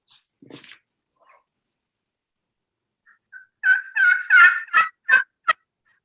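A GobbleStalker turkey call runs a quick rolling series of yelps that breaks sharply between high and low notes, loud and close in an echoey room after a mostly quiet start.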